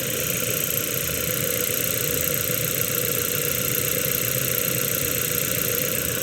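A car engine idles with an uneven, missing beat while running in cylinder deactivation, a steady close mechanical hum with faint irregular knocks and no voices.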